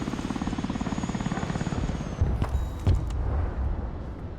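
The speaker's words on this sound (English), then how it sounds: "I'm pretty sure I just called in a helicopter." Helicopter in the video game Broken Arrow, a steady rotor thrum and engine whine running throughout at moderate level, with a few heavier thumps and impacts near the middle, no talking.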